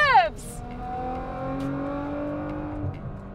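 A Nissan R35 GT-R's engine revs hard, pitch sweeping steadily upward through the gears, loud and close with a brief shift break near the end.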